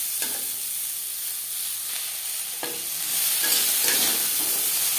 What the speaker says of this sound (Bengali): কাঁচা গন্ধ যাওয়া পর্যন্ত ডাঁটা উচ্ছের সাথে নাড়াচাড়া করে নেব।